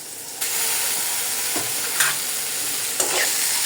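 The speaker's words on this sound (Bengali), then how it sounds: "এখন লতিগুলো দিয়ে দিচ্ছি।" Boiled taro stolons are added to a pan of frying onion and prawns with salt and turmeric. A fresh burst of sizzling starts early and holds steady, broken by a few scraping stirs, close and without talk.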